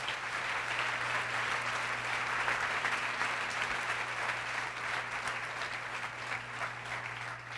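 Congregation applauding during a Sunday church service, sustained and even clapping from a large crowd that carries on without a break through the whole stretch, with no talk over it.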